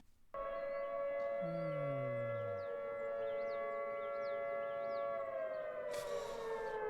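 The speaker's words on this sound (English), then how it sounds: "And then there's the attack tone, which is it goes up and down, back and forth." A loud mechanical tornado siren sounds its attack tone, wailing steadily with pitch swinging up and down in a repeated rise-and-fall pattern, with a lower engine-like drone briefly underneath.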